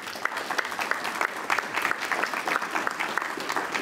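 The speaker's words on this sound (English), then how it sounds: "Let's give everybody a round of applause." An audience claps after a panel discussion on the health of Florida springs, a lively burst of many hands with sharp individual claps standing out, steady for the whole stretch.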